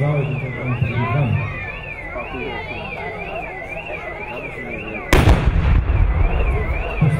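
Mortar and musket salvo at a 17th-century battle reenactment of mercenaries against Sarmatian troops: outdoor noise with a wailing alarm-like tone, then a sudden loud blast and crackling volleys near the end, amid crowd and commentary voices.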